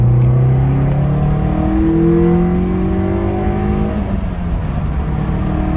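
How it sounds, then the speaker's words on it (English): A 1991 Nissan Sentra SE-R engine pulls hard at full throttle in second gear, a loud, steady roar with rising tones, close and continuous with no talking. "And I'm gonna floor it 3, 2, 1."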